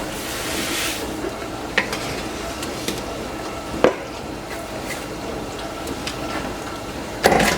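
Sugar being stirred into boiling plum jelly in a pot, a steady bubbling hiss with occasional spoon scrapes and knocks against the pan, close and without speech.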